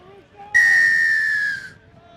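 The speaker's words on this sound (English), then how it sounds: "And there's the whistle, and we are underway." A referee's whistle blows one long, loud, steady blast lasting about a second to start a beach rugby match on a sunny day at Coney Island, with faint crowd chatter before and after.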